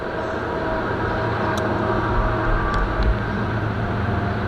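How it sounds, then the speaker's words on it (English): A train rolls past nearby, producing a continuous, fairly loud rumble and rattling roar that holds steady throughout, with only faint clicks above it. "let the train go by"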